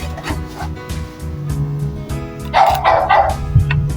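A dog barks outdoors near a barn while chasing a porcupine. A few short barks rise briefly over a steady, dense background hum.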